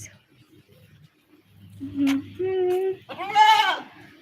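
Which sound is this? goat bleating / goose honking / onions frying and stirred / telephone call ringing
goat bleating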